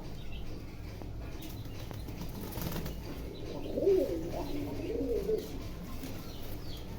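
Racer pigeons coo softly in a loft, low murmuring calls swelling around the middle with a brief flutter of wings, steady and close against a continuous low background.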